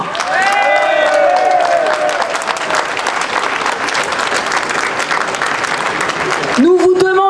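A crowd at a Tour de France union rally applauds loudly and steadily. A speaker's amplified voice rises over the clapping near the start, and talk picks up again at the end.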